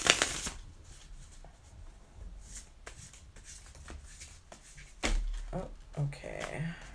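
Tarot cards riffle and shuffle in repeated soft bursts, close by, with quiet handling noises between them.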